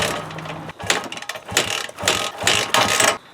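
Repeated kicks at the kick-starter of an XR100 dirt bike that has sat for two years and is not getting fuel to the carb: about five loud, close mechanical ratcheting bursts, and the engine never catches.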